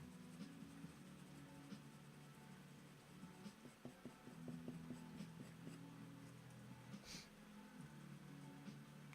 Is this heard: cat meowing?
no